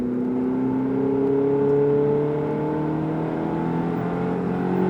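A Ferrari accelerating on a track, its engine droning steadily in a smooth, sustained rising whir heard from close up, loud and even throughout with no voices over it.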